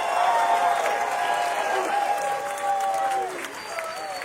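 A crowd at an outdoor reparations rally in DC applauds and cheers loudly and continuously, with whistles and shouts rising above the clapping before it thins out near the end.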